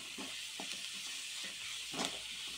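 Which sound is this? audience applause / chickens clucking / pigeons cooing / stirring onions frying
stirring onions frying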